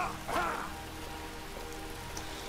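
Steady rainfall in the Skyrim video game, an even broadband hiss of drops on surfaces that holds throughout, with a brief louder swell near the start and no voices.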